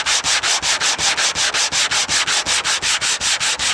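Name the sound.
crosshatch sanding paint on a 57 Bel Air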